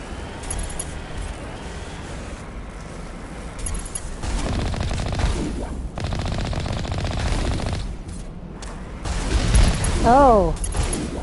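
Rapid video-game gunfire in Mass Effect as enemies are shot, sustained automatic bursts growing louder toward the end over a steady background hum.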